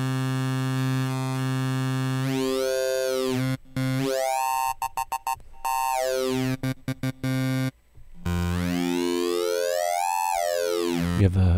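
Sweeping electronic synth tones from a Native Instruments Massive software synthesizer glide up and down in pitch with buzzy harmonics, broken by abrupt stuttering cuts and gaps.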